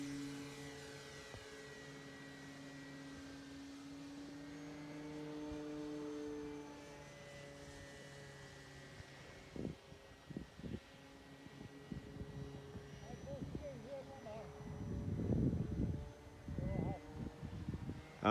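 A light aircraft engine drones steadily at Arnarvöllur airfield in Iceland, its tonal hum holding for much of the stretch, then broken by irregular thumps and louder bursts near the end. Faint voices may be present.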